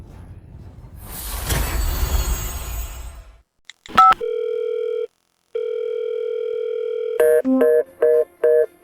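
A telephone call goes out: a brief burst of noise, quick dialing beeps, then a long steady electronic tone repeating with a pause, followed by a rapid series of short beeps, loud and close.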